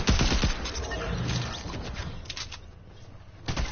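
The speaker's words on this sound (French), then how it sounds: "je vais l'avoir au pistolet" Pistol gunfire in a battle royale shooter on PS4: sharp shots cluster at the start, with more bursts of fire and clatter through the middle and a final loud report near the end.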